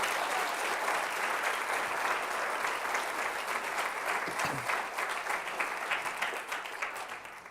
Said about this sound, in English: Please join me in giving them a rousing round of applause.